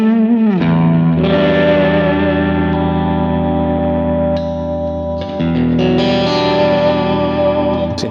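A PRS Custom 24 SE semi-hollow electric guitar rings out through distortion, chorus and echo effects, a loud, sustained strummed chord that gives way to fresh strums with a long, reverberant tail.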